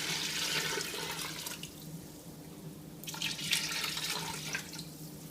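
Water pours into a pot of beef goulash in two bursts, a splashing, rushing stream that starts, pauses briefly, then resumes, close and fairly quiet with no talking.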